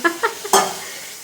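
A spoon scrapes a pan of potato bhaji in a small kitchen, giving three quick stirring strokes and then a louder scrape over a steady sizzle of frying.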